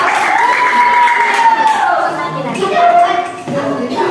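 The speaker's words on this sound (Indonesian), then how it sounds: "Tepuk tangan untuk kelompok 3" A classroom of students cheers and shouts together for a group about to present, a dense, sustained wash of young voices with little distinct clapping.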